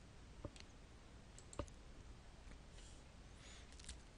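Computer mouse clicks during map-editing software work: two or three faint, sharp single clicks spaced over a few seconds, alone against a quiet background hiss.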